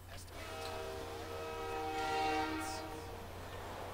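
A Stillwater Metro train in the Saints Row game sounds a loud, sustained multi-tone horn over a steady rail rumble for several seconds before the horn trails off.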